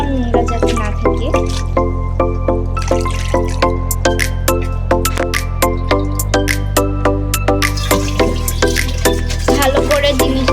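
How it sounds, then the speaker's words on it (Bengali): Water drips and splashes repeatedly as freshly cut leafy greens are washed by hand, a close, steady patter of wet squishes over a constant low hum. "শাক কোটার পর আমার আম্মু শাকগুলো ভালো করে ধুয়ে নিচ্ছে, যাতে ভিতরে কোনো পোকা বা নোংরা যাতে না থাকে।"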